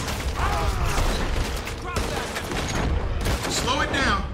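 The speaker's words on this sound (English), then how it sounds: "Yo, we taking bullets." Gunfire crackles in Red Dead Redemption 2, bursts of shots and mechanical clatter layered over game noise, fairly loud and continuous across the stretch.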